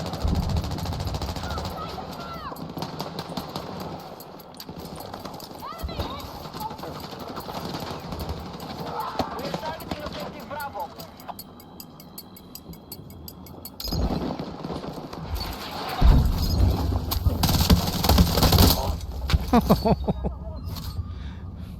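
Bursts of automatic gunfire in a Battlefield 6 Breakthrough match, rapid machine-gun rattles recurring across the clip, with louder, denser firing near the end.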